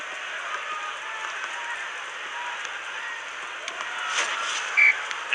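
Stadium crowd in a football video game match cheering after a goal, a steady, hissy wash of distant crowd noise at moderate level that swells slightly near the end.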